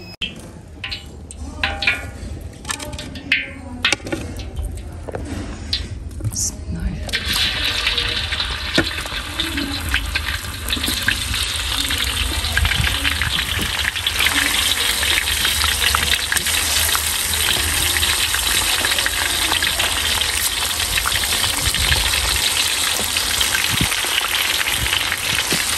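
Food sizzling and frying in a pan during home cooking of a mutton feast, a steady dense crackle that swells louder after the first few seconds and continues without talk.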